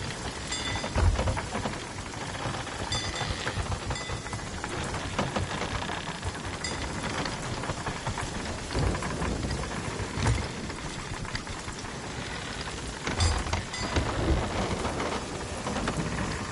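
Rain falls near a dock in the pirate sailing game Sea of Thieves, a dense continuous hiss with occasional heavier gusts and low rumbles throughout.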